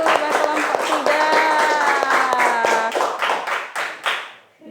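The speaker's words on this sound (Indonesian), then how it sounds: "Tepuk tangan dulu buat kelompok 3" A fourth-grade classroom applauds group 3, with many children clapping together in a loud, rhythmic burst that holds steady and then tapers off, while voices sound through the clapping.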